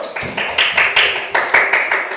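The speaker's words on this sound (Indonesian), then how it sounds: "Tepuk tangan untuk kelompok 1." A class claps for a student group after a school lesson, a short burst of distinct, rhythmic hand claps in roughly even beats, close and fairly loud.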